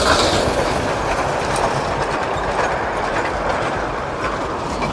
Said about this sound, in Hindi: ये है वो टॉय ट्रेन। ये देखिए कितनी तेज चल रही है